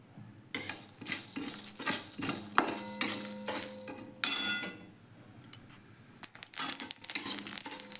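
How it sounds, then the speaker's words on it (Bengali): Whole coriander, cumin, dried chilli and peppercorns dry-roast in a dry wok, with repeated close scraping and clinking strokes of a spatula in rhythmic bursts, then a quieter pause and a final flurry of stirring. "শুকনো কড়াইয়ে ভেজে নিচ্ছি।"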